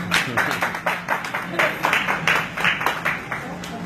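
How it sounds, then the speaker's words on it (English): Scattered audience clapping for a young woman volunteer in a Microsoft store, uneven rhythmic claps from a small crowd with a voice and background noise underneath. "Can we give this young lady a hand clap?"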